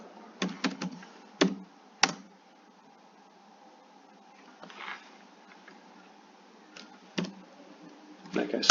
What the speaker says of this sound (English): we'll type some information out now so we can practice the first line indent